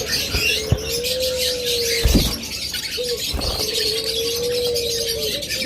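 A pair of pet cage birds calls with long, steady whistle-like notes broken by a short gap, while a few sharp clicks and knocks sound close by.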